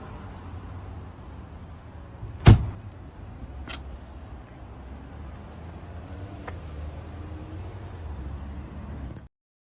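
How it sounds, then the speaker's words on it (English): A car door closes once with a sharp, solid thud early on, standing out over a steady low background hum that continues until the sound cuts off near the end. "This is him closing her car door."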